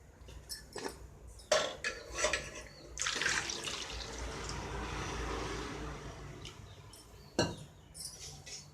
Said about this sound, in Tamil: முட்டை வந்து மூழ்கிற அளவுக்கு தண்ணி ஊற்றிட்டு